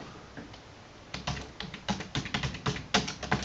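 Someone types a short entry on a computer keyboard nearby, a quick run of crisp key taps that grows busier and louder toward the end, with no talking.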